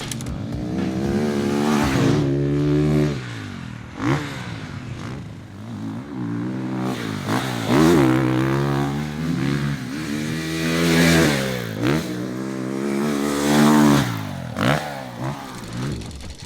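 A Triumph TF 450-RC dirt bike ridden on a red-dirt track, its engine revving hard and falling back repeatedly through gear changes, loud and close, with rising and falling pitch sweeps and no talk.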